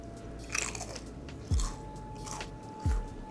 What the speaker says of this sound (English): And you're eating my last bag of Ruffles.